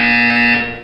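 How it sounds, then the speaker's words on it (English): A steady electronic buzzer tone from the video game Portal 2, loud and continuous for under a second before it fades slightly at the end, with no speech. "You will hear a buzzer."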